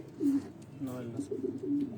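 Racing pigeons in a loft at Kalat give low, soft coos that repeat in short rounds, with faint voices murmuring nearby.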